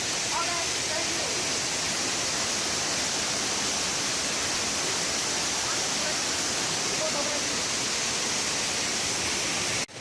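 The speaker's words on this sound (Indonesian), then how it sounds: "Air terjun sangat wow, keren banget, guys." A waterfall, Air Terjun Tengah in Bengkulu Tengah, roars as a loud, steady broadband rush of falling water that fills the whole clip without letting up.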